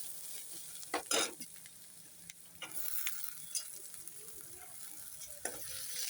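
Chopped onions, green chillies and tomatoes sautéing in a pan for a prawn gravy, with a low sizzle broken by a few sharp scraping stirs of a spoon, close by and with no talking.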